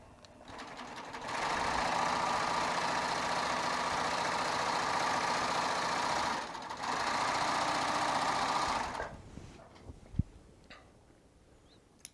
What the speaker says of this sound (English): I love doing thread play on a serger